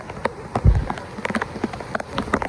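Heavy rain falls in a farming village, landing as irregular drips and splatters on nearby surfaces, with a few louder thuds and a steady wet patter beneath.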